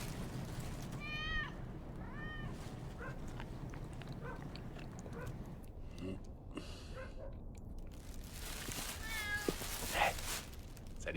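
A cat meows several times, with short rising cries near and fairly clear, over a quiet room hum with faint chewing or crunching sounds.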